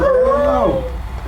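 A paralyzed, injured dog lets out a single drawn-out whimpering howl, rising and then bending down before trailing off into quiet, close and fairly loud with no talk.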